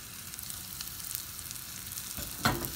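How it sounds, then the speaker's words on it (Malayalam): Shallots and curry leaves frying in coconut oil for a kadala curry tempering, a soft steady sizzle throughout with a brief louder crackle near the end, no voices. "ഈ വെളിച്ചെണ്ണയിൽ ചെറിയുള്ളിയും കരിവേപ്പിലയും വറുത്ത് വരുമ്പം"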